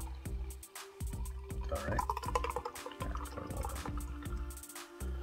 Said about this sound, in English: Pour the whole thing and get right into this little spritzer.